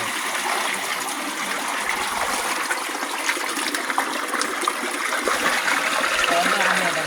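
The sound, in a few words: water flowing from underground in a cave in Bohol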